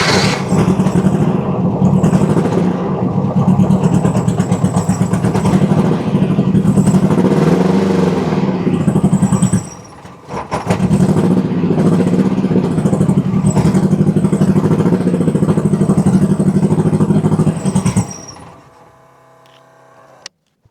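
A VW-powered sand rail engine roars continuously as its accelerator is pumped by hand, revving in surging waves, briefly dipping and catching again, then cutting off near the end into quiet.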